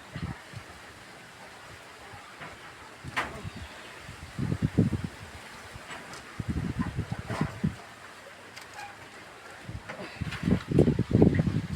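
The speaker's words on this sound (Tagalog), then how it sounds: "muhapak na gyud ang kusog nga hangin" Strong gusting wind ahead of a typhoon buffets the microphone in irregular bursts, rising and falling in loud rushes with quieter lulls between them, outdoors with no voices.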